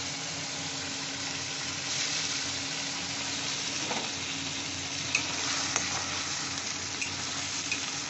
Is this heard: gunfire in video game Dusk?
no